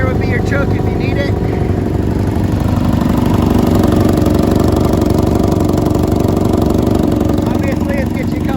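A custom Honda Magna motorcycle with straight pipes starts and settles into a loud, throbbing idle close by, running steadily throughout while someone talks over it.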